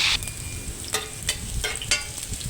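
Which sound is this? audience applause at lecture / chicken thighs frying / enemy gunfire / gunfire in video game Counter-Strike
chicken thighs frying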